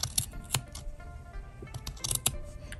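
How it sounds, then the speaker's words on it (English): Scissors trim around the edges of fabric pieces in a few quick, close snips, with soft handling rustle between cuts and no talking. "I'm gonna go ahead and trim it smaller all around."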